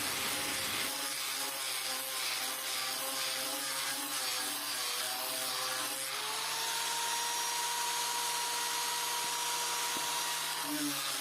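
A sanding grinder smooths a part for a large dandang kite, a steady whining motor drone that shifts pitch partway through and runs continuously for several seconds.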